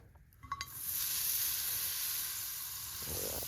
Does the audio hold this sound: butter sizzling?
yes